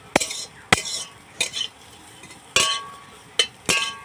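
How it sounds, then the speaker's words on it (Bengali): Onions fry in a kadai while a metal utensil stirs them, giving about six sharp scraping clanks in an irregular rhythm over a faint sizzle, close and fairly loud. "পেঁয়াজটা হালকা লাল লাল করে ভেজে নেব।"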